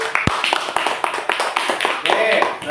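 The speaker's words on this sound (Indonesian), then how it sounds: "Kasih tepuk tangan untuk kelompok 1." Scattered claps from a small classroom group of teacher-training participants applauding group 1, sharp irregular hand claps mixed with voices talking close by.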